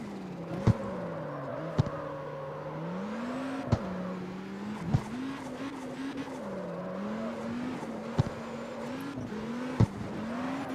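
Engine revving and rising and falling in pitch with tire squeal and sharp impact clicks, from a car racing in a video game, steady and close with no talk.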